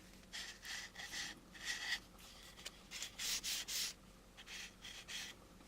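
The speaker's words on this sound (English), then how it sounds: "try it with the sandpaper" Sandpaper rubs over the rough surface of an AMT U.S.S. Enterprise model kit 6676, a series of soft, close back-and-forth strokes in uneven bursts, quiet and with no talking.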